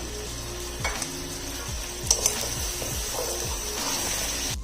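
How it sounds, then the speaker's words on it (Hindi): Mutton stock (yakhni) splashed onto spices frying in a pot for mutton pulao, giving a steady close sizzle with rhythmic stirring scrapes repeating about once a second. "हल्का सा इसमें ये यखनी का छींटा देती हूँ ताकि हमारे जो मसाले हैं वो जले"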